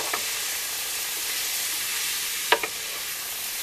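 Food cooking down in a pan with a little coconut oil, a soft steady sizzle and hiss with a couple of light clinks near the end, no talk.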